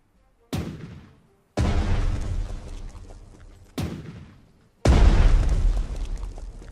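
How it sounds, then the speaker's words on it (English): Big naval guns fire in the Panzer Strategy video game, four booming blasts in two pairs, each a sharp loud crack followed by a long rolling rumble, with no talk. "What I can do is use the big guns here."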